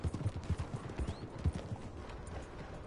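Horse hooves clip-clop in Red Dead Redemption 2, a quick, uneven series of close hoof thuds that taper into a quieter rustle by the end.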